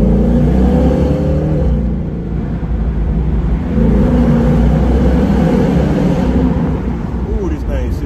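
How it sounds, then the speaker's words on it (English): A 2019 Ford Mustang GT Premium with a 10-speed transmission roars loudly and continuously, its engine revving through downshifts with rising and falling pitch, while voices talk over it. "I love them downshifts, bro."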